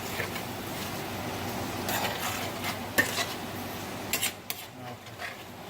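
A spoon scrapes and clinks around a pot of simmered chuck picado meat, with a few sharp knocks against the metal over a faint background hiss.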